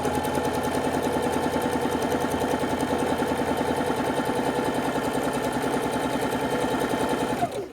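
A sewing machine stitches half-square-triangle quilt blocks cut from charm packs, running in one steady, close, continuous whirring hum with a fast needle rhythm for several seconds before stopping abruptly.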